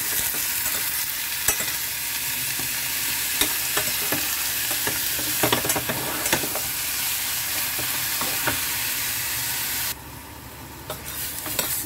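Three medium squid sauté in a hot pan with garlic and onion, a loud continuous sizzle with frequent clacks of a spatula stirring, close up and without talking.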